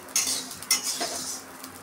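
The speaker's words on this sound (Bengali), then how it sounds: "এইভাবে আমি সব চিড়েগুলো ভেজে নেব।" A spoon stirs poha, flattened rice, as it fries in a pan, with two sharp scrapes and a lighter third over a faint, dry sizzle, close and brief.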